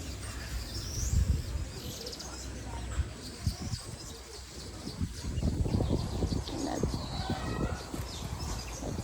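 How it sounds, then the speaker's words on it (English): Outdoor animal enclosure at a South African tourist spot with mixed birds and turkeys, cooing and chirping calls scattered over constant ambient noise and low rumble, with faint voices nearby. "There's some turkey."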